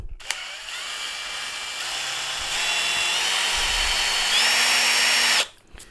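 A drill rivet gun attachment whirs steadily as it ejects a rivet stem, stepping up in pitch a few times as it revs, then cuts off abruptly near the end.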